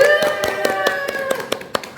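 A seventh-grade class claps several hands in a loose, roughly regular rhythm, close by, over a fading sustained tone, with a voice briefly audible.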